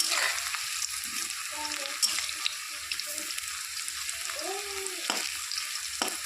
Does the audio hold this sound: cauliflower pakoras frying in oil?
yes